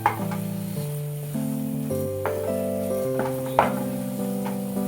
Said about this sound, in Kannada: ಒಂದು 5 ನಿಮಿಷ ಹಾಗೆ ಫ್ರೈ ಮಾಡಿಬಿಟ್ಟು ನೋಡಿ